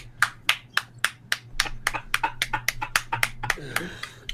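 Hands clapping during a New Year's Eve livestream, sharp distinct claps, at first spaced evenly, then faster and more irregular, close and fairly loud over a steady low hum.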